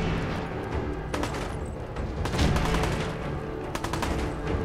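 Raiders firing guns in Fallout 4, repeated sharp shots and short rapid bursts ringing out over a noisy background, with clusters near the start, middle and end.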